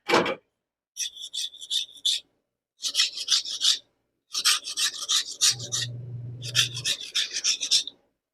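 Rasping scrape of an ingredient, likely coconut, being grated for a drumstick and chicken curry, in four rhythmic bursts of rough strokes separated by short pauses, close and fairly loud, with a faint low hum partway through.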